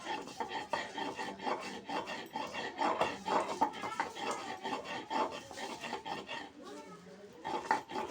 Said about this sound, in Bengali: যে এবার আদাটা বেটে নেব।